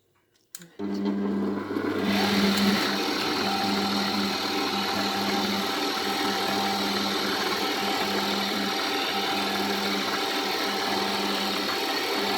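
Electric mixer kneading a soft, runny bread dough, a steady motor whir that starts abruptly after a brief click and holds continuously up close.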